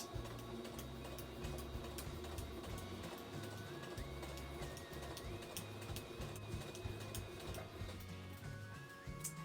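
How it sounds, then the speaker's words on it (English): A sewing machine runs steadily while stitching around the folded neckline of a sweater, with its mechanical whir and rapid needle clatter continuing close up through the clip and no talking. "I'm going to stitch all the way around this neckline"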